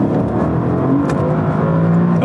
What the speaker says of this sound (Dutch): Dan hoor je al een beetje wielspin.